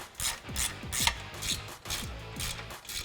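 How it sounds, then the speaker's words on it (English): A 14mm socket and wrench tighten exhaust bolts on a 2011-2014 Ford F150 3.5L EcoBoost, giving quiet repeated ratcheting strokes in an even back-and-forth rhythm, close by with no talking. "we're gonna use a 14mm socket and a wrench to tighten up these 2 bolts"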